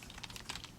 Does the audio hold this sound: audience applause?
no